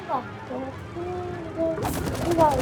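Bursts of gunfire in the video game It Takes Two erupt in the second half, loud and crackling, following a stretch of talking that continues faintly underneath.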